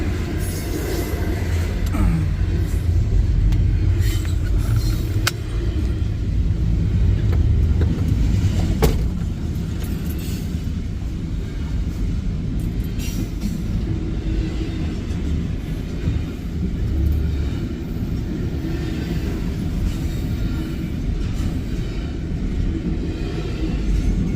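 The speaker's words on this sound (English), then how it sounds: "The train's moving now, so we need to get ready." A CSX freight train rolls past a railroad crossing in Resaca, Georgia, a loud, steady rumble of wheels and cars close by with occasional clanks, continuing unbroken throughout.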